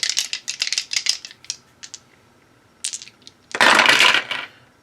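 Four dice for a World at War 85 tabletop war game rattle in quick clattering bursts, then tumble loudly onto a hard surface in a final roll.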